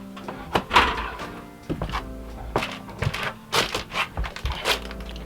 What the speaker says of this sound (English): You can hear the roofers up top.